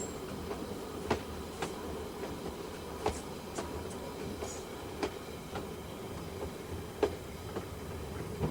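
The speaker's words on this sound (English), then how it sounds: "Train 819, the unique sound in the Buller Gorge." A traditional West Coast freight train hauling cement and coal runs through New Zealand's Buller Gorge, its wheels giving a steady rumble punctuated by regular clicks and clacks at a moderate distance, with no voices.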